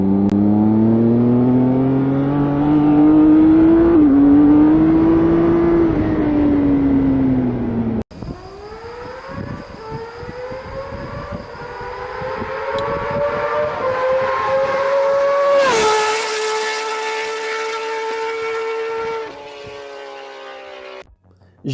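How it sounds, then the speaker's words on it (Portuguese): A straight-six car engine revs hard and loud, its pitch climbing and falling in a continuous smooth wail before dropping off, then winding up again through a long rising pull that ends abruptly. "Seu som é contínuo, podendo ter o famoso grunhido dos 6 cilindros em linha"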